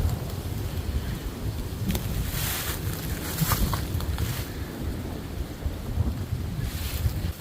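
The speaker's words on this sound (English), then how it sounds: "It's a little windy." Gusty wind blows along an outdoor waterfront by old stone stairs, roaring and buffeting the microphone in uneven surges, with stronger bursts in the middle and near the end.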